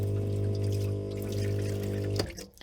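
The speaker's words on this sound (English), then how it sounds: "We've got lots of water coming out of there." Water from a truck camper's tank is pushed by a small electric pump out of an unheated tap, a steady close pump hum with running water that stops abruptly near the end.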